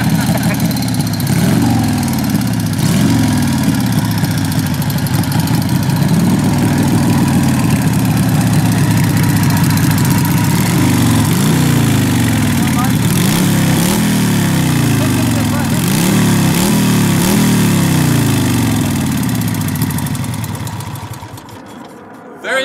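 A 1939 Indian Hillclimber motorcycle engine runs loud and close, idling with a steady low throb and rising and falling through several revs. It then cuts out near the end.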